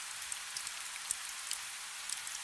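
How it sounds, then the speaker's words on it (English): Rain falls on stone as a soft, continuous patter with occasional sharper individual drops, quiet and even throughout. "The rain falls,"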